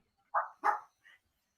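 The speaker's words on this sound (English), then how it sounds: "We got the dog." A dog gives two close, sharp barks in quick succession followed by a softer, shorter yip, all loud against an otherwise quiet background.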